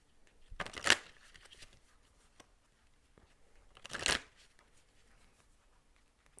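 Oracle cards are shuffled in two short, close riffling bursts a few seconds apart, with near silence between them.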